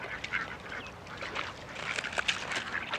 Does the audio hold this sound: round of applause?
no